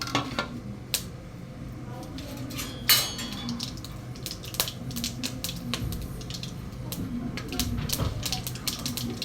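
Mustard seeds splutter in hot oil for a home chicken gravy, giving a close, irregular patter of sharp pops and crackles over a low sizzle, with a voice talking over it at times.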